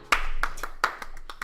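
Sharp hand claps sound close and loud in a quick, uneven run of about eight snaps, the first ones strongest, with no talking over them.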